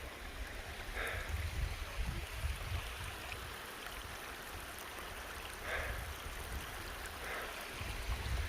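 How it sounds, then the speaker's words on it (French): Small mountain stream near its source on a high rocky trail, a steady broadband wash of flowing water heard at a moderate distance, with faint footsteps and brief rustles over it. "tout début d'un ruisseau"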